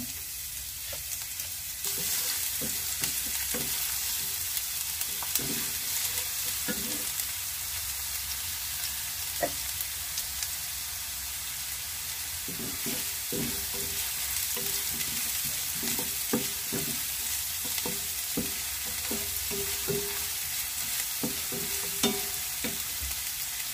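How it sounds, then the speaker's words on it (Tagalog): Onion and garlic sauté in hot oil for picadillo, a steady sizzle running throughout with repeated scraping and stirring strokes of a utensil in the pan, close and fairly loud, no talking. "Mag-iinit lang po tayo ng mantika. Lalagyan na natin yung sibuyas at bawang."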